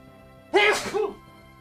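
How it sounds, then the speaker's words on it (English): A single sharp sneeze bursts out close to the mic, with a brief wet trailing sound after it. "Oh, I'm gonna sneeze."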